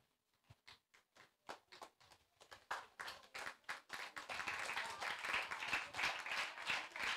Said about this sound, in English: Clap as she comes.